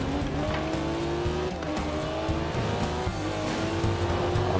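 An Aston Martin DB4 Zagato driven in Forza Horizon 4, its engine droning steadily with rising and falling revs and intermittent tire squeal, loud and close throughout with no talking.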